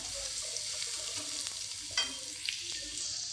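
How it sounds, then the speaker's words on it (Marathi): Ginger and garlic fry in a pan with a soft, steady sizzle, broken by a few sharp scrapes and clinks of a spatula stirring, faint and close with no talking. "मस्त अद्रक लसूण छान लाल झाले आता"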